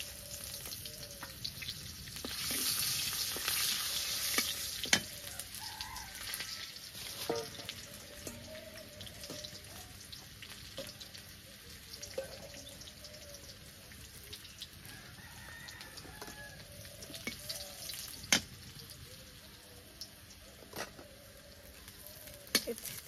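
Onions frying in oil give a soft, fairly quiet sizzle with occasional clinks, while a rooster crows and fowl call in the background of an outdoor kitchen.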